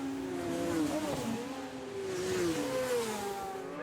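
Racing motorcycles sweep past on the Oliver's Mount road circuit, engines rising and falling in pitch as they pass at a middle distance, with a steady roar throughout.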